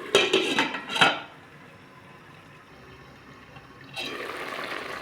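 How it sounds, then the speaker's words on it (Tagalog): A lid set back onto a pan of sautéed squid with carrot and chilli, two quick metallic clanks near the start, then quiet simmering and a soft rise of sizzling. "Takpan ko ulit saglit kasi parang hindi pa gaano luto."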